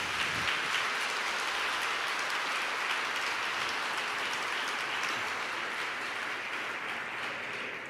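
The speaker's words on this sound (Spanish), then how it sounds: "Denle un aplauso fuerte al Rey de Reyes" A church congregation applauds during a Spanish-language sermon, a loud, dense wash of clapping sustained throughout and gradually easing toward the end, with no speech over it.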